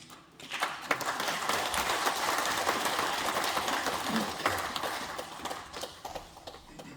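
Audience applause at a lecture in a Korean cultural hall, a steady wash of many hands clapping that fades slightly toward the end, heard from within the room.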